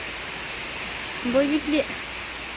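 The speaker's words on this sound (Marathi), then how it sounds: "वरनं लागले टपा टपा पडायला" Rain in the Konkan countryside, with drops leaking and dripping down from above: a steady, even hiss throughout, with a brief spoken voice in the middle.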